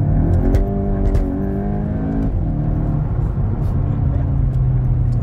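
A Volkswagen Golf GTI Mk8 engine pulling steadily while driving on country roads, its enhanced interior engine note a continuous close drone with road rumble and no talking.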